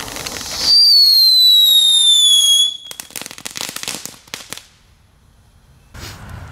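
Knetterking fireworks let out a loud, piercing whistle that slides downward for about two seconds, then burst into a dense run of crackling pops that fades away before a final short crackle.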